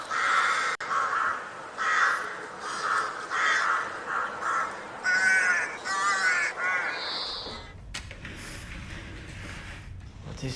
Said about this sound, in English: What is this? A crow.